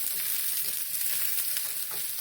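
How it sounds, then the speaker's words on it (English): Steady, loud hiss and crackle of onion and kidney frying in a hot pan, close up, with no talking. "hear the sizzling"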